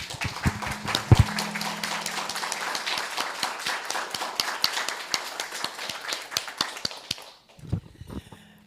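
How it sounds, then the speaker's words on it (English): A small community meeting audience applauds a resident being honoured, distinct close hand claps in an uneven rhythm that stop abruptly near the end, leaving brief quiet with a light knock or two. "I'd like you to join me in giving her a good round of applause"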